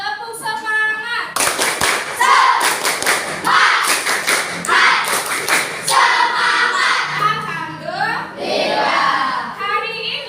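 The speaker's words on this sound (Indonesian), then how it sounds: "Coba tepuk semangat." A class of children performs a rhythmic spirit clap, bursts of hand claps and table thumps in a patterned beat, loud and close, with children's voices chanting between the claps.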